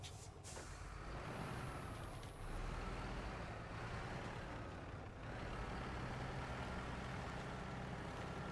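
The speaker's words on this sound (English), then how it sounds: "I'm just going to try to back my truck in here." Heavy truck engine rumbling steadily while reversing in the SnowRunner driving game, with an air-brake hiss near the start and a constant low drone throughout, no speech.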